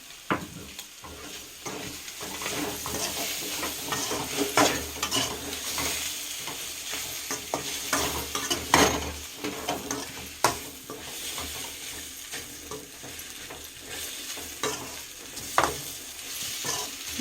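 Prawns fry in a pan with chili, making a continuous crackling sizzle. Frequent stirring scrapes and light clinks of a utensil on the pan sound throughout, and there is no talking.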